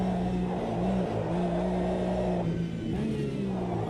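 A Porsche GT4 race car engine on cold tyres in the Automobilista 2 sim racing game drones loudly and steadily, its pitch dipping and climbing as the revs shift through the stretch, with no voices over it.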